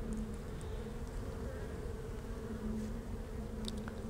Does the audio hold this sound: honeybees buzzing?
yes